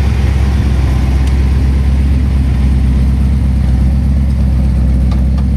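A 1000 HP twin-turbo Callaway Corvette with a Nelson Racing Engines build idles close by, a loud, smooth, steady low rumble that holds throughout with no revving.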